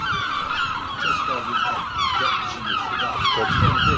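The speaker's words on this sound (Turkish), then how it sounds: "Her tarafı martı sardı." A large flock of seagulls gathered around spilled bread calls all around, with dense, close, overlapping squawks and honking cries that carry on without pause.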